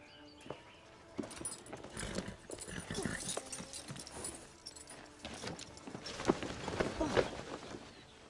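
Horse hooves clip-clopping irregularly on a hard surface, moderately close, mixed with jangling and other movement sounds in a family adventure film scene.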